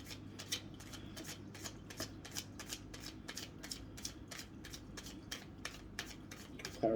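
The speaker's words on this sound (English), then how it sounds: "I'm going to shuffle them more." Tarot cards are shuffled close up in a quiet room, with a steady run of soft, rapid riffling flicks repeating about twice a second throughout.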